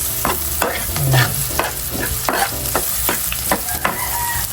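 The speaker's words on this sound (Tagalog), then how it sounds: "medyo naluluto na yung sibuyas at bawang" Onion and garlic sauté in a pan, hissing with a steady sizzle while a utensil stirs and scrapes in repeated rhythmic strokes, close and fairly loud, with no talking.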